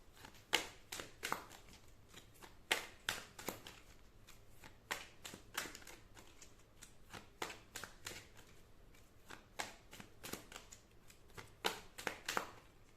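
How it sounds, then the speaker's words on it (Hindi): Tarot cards are riffled and snapped in quick, crisp bursts close by, a dense run of papery flicks and taps that keeps going with brief gaps and no voice. "एक और कार्ड आपके लिए मैं निकालना चाहूँगी।"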